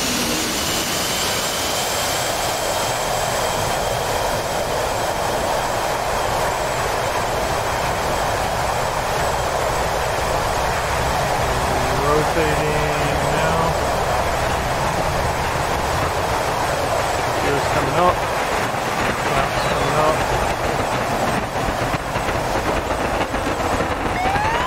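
An F/A-18C jet engine at full afterburner in DCS roars as a loud, steady, broadband rush for the whole stretch, with a faint rising whine passing through partway.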